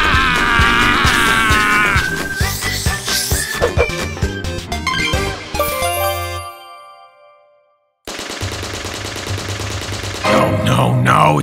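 Rapid gunfire in the Roblox game Choo Choo Charles bursts in dense volleys with metallic clinks, cuts to near silence, then resumes loudly with more clattering shots.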